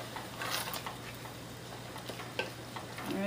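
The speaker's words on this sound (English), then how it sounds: "Give it a stir." Diced celery being stirred in a soup pot for chicken soup, a faint soft sizzle with a few quiet scrapes and one sharper clink, no talking.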